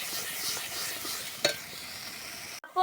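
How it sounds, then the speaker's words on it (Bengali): Taro leaves frying with prawns and stirred in a pan, a faint, even sizzle with a single sharp scrape partway through, then an abrupt clatter at the end, no talking. "দিয়ে একটু নাড়াচাড়া করে দিলাম"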